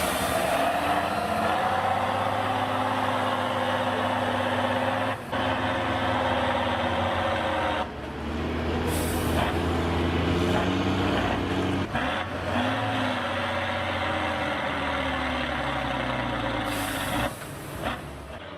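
A TATRA 813 8x8 truck powering through sand pits, its heavy engine droning and rising and falling in pitch as it works, loud and continuous, with a few brief hissing bursts along the way.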